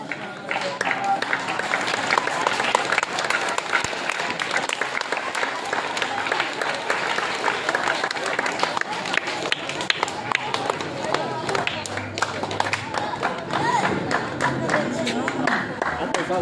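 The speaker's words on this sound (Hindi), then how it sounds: "इनाम जैसे ही बच्चे को हासिल दिया जाए फौरन आप हज़रात तालियों से स्वागत करें" An audience at a school prize-giving ceremony claps steadily, a dense sustained patter of many hands that stays fairly even throughout, with voices mixed in underneath.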